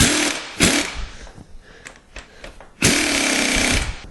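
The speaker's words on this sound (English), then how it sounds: "so I'm going to connect up my air tool" A pneumatic air tool bursts into rapid hammering during a car strut install, with two loud close runs separated by quieter clanks and handling noise.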